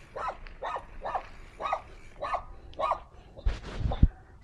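Dogs bark at a cyclist on a road in Cavite, giving about seven evenly spaced barks at moderate distance, followed by a louder scuffling burst near the end.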